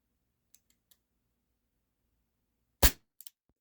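Walther P38 4.5mm CO2 pistol by Umarex firing a single sharp, loud crack, preceded by a few faint mechanical clicks and followed by brief clicking, in otherwise quiet surroundings.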